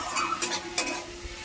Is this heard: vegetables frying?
yes